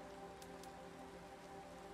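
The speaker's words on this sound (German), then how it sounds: "Es regnet schon wieder." Soft, steady rain falls in the video game The Planet Crafter, a faint continuous patter with a few brief droplet taps, heard alone without voices.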